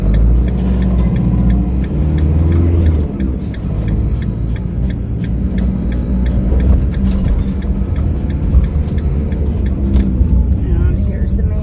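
Car driving near a hospital, with a steady low engine hum and road rumble running throughout under a person talking, plus faint ticking in the background.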